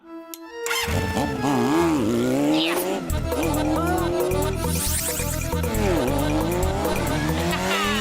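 A heavy motorbike is ridden in a cartoon: a loud, revving engine roars with rising and falling whines, tire-squeal-like skids and cartoon sound effects. A character shouts and talks over the noise.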